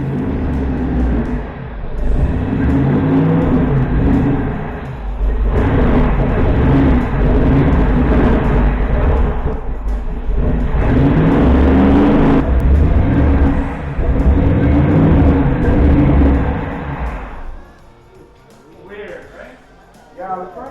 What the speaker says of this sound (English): The HEMI does just sound amazing with the Flowmaster mufflers